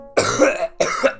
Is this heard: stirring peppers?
no